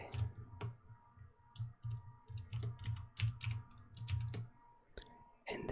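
Soft, close keyboard typing while building a simple webpage: quick irregular clicks and taps in bursts, a low thump under some keystrokes, with no talk.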